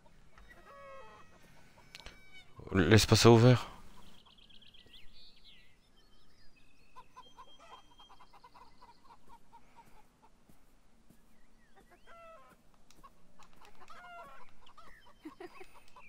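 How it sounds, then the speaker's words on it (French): Chickens cluck in a farmyard scene of the video game Beyond Eyes, with one loud burst of fowl calls early on, then quieter scattered clucks and light ambience while a person briefly speaks. "Ah, je peux au moins aller voir les poules."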